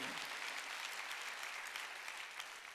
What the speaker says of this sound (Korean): 믿으면 박수 치라 이거야